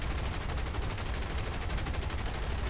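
Aircraft guns chatter continuously in an air combat video game, a dense, steady rattle of rapid fire filling the whole moment without pause.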